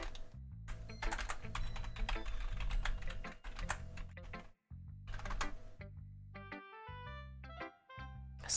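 Rapid clattering keystrokes on a computer keyboard come in quick bursts with brief pauses, set against electronic tones that rise in stepped sequences in the background.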